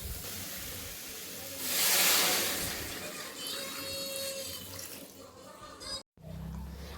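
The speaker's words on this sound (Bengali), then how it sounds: "তাই জন্য মোটামুটি দিয়ে এবার জল ঢেলে দেবো।" Water poured into a pan of spiced cooking with ground spices, a loud rushing hiss that swells briefly then settles into a steady sizzle, close by with no talk.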